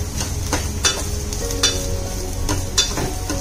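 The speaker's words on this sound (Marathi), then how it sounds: "त्यामध्ये घालणार आहोत कांदा, बारीक चिरलेला कांदा, आणि याला गोल्डन ब्राऊन होईपर्यंत परतायचं आहे" Finely chopped onion sautéing in a pan toward golden brown, a steady close sizzle broken by periodic spatula stirs and scrapes against the pan.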